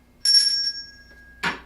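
A small hand bell at a jewelry sale gives a single bright ring that hangs and decays for about a second, followed by a short rustling clatter.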